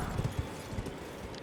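Horse hooves clip-clop in the video game Elden Ring as a rider moves around an encampment, a few soft, low thuds in an uneven rhythm, faint and distant, with no talk.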